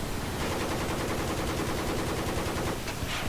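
A gunner fires from a helicopter in a video game, with dense, continuous, rapid machine-gun bursts at close range and no pause, all under a constant rotor-like roar.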